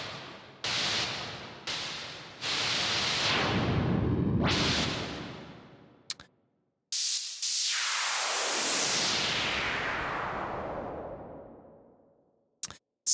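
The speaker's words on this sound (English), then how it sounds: "Yeah, needs a big white noise." A big white noise synth sweep in an electronic music production session, with short bursts and choppy noise hits that give way to a long sustained wash slowly falling in pitch, ending in brief clicks.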